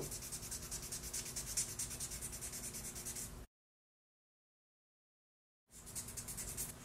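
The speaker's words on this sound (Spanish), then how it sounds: "Siempre termino este paso con una lija de papel para suavizar todas esas fibras de la madera." Sandpaper rubbing the tip of a wooden bassoon reed to smooth its fibres, a quiet rapid scratching in short repeated strokes, broken by a brief gap of silence.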